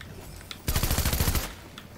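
A rapid burst of gunfire in the Fortnite video game, with quick close shots firing for under a second amid low background game noise.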